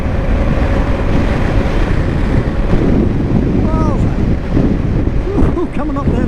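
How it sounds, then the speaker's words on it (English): Loud, constant wind buffeting the microphone, a heavy low rumble throughout, with a voice talking faintly underneath. "Windy, talk about windy"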